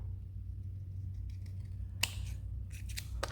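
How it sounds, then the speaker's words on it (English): Scissors cutting recycled plastic into rectangles give a few crisp, isolated snips over a steady low hum, close by and without speech. "so I'm just going to cut these out"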